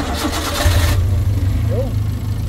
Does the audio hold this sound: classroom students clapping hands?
no